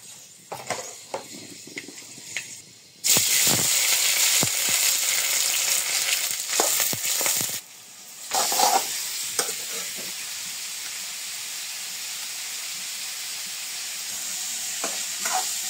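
Pumpkin curry with onion, tomato, spices, salt and turmeric frying in a kadai: a loud, close, steady hiss of hot oil bursting in after quieter utensil taps, with brief scraping stirs, no voices.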